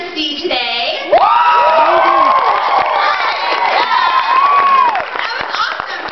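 A theater audience at a performance cheers, whoops and claps loudly as a warm-up, with high children's shouts rising and falling over a dense crowd roar for several seconds.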